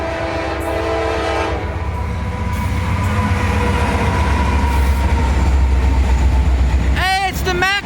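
A CSX intermodal freight train rolls past close by, its heavy rumble and clatter of cars filling the scene, and a horn blasts briefly near the end while people talk over it.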